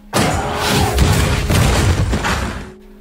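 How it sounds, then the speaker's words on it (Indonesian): A sudden loud boom bursts out and rumbles for about two seconds before cutting off, a single heavy blast. "sehingga ledakan pun terjadi"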